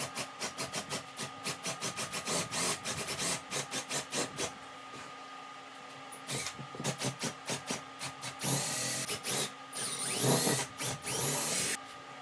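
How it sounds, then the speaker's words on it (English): A power drill bores holes into wooden dowel legs in repeated short bursts, the motor whirring up and stopping in a choppy rhythm with a few longer runs, close and clear. "Now it's time to get ready to drill holes into the wood"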